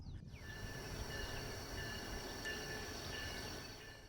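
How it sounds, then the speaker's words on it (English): A Missouri & Northern Arkansas Railroad train on the Clinton Branch begins to roll through a sleepy small town in the morning, with a steady low rumble, some high ringing squeal tones, and birds or insects faint in the background. "our train starts to roll and provides a bit of a morning wake-up call for the sleepy town"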